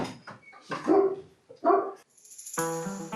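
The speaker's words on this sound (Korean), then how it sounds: "제작진을 보고 짖기 시작하는 코몬도르" A Komondor dog barks at a film crew: a few loud, close barks separated by short pauses, with a steady tonal sound coming in at the end.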